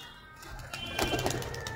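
Pet flying pigeons coo softly from close by, a few low murmuring calls building over a couple of seconds amid light rustling, just before being released to fly.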